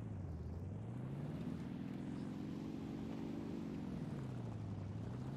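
Propeller engine of a Yak-1B fighter in War Thunder, a steady droning hum that rises and falls in pitch as the aircraft maneuvers, continuous and fairly quiet with no voices.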